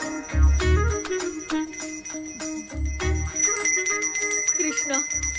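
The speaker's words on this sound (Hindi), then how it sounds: "मुझे जल्दी आओ बोल के यहाँ पर घंटी बजा रहे हो। मैं कहाँ बजा रहा हूँ बेटा, ये तो अपने आप बज रही है।" A bell rings on its own with no one striking it, repeated bright metallic tones over a tonal music-like backdrop, with low thumps beneath; loud and close.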